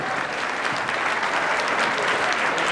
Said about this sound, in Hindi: थोड़ी सी अतिरिक्त तालियां दीजिए दीपक सैनी को।